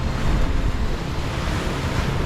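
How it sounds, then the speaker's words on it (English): Rough North Sea waves tossing a sailboat running downwind: a steady, loud wash of surf and wind noise buffeting the microphone, with no talk. "The waves tossed us around, still downwind"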